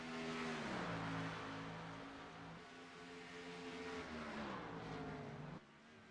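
Race cars run bumper to bumper at Watkins Glen International during an ISRC championship round, engines howling loud and close, pitch dipping and climbing as they come off a corner and accelerate down the back stretch.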